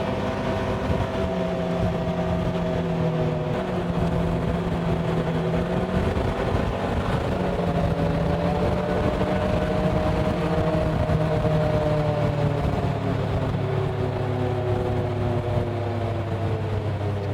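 A vehicle drives north on Highway 23 through the Arkansas Ozarks, its engine and road noise giving a steady, close, continuous drone with slowly shifting tones as the speed changes, and no talking.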